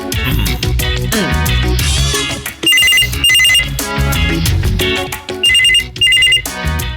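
A telephone rings in repeated bright bursts alternating with pauses, layered over loud background music throughout.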